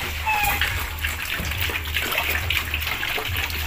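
Water is poured from a bucket onto pig feed in a farm pen, a continuous close splashing gush that lasts throughout with faint voices in the background.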